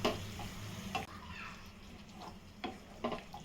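Fried potatoes tossed with masala in a pan over a high gas flame, a low steady sizzle under intermittent scraping and tapping of a spoon against the pan, fairly faint and close.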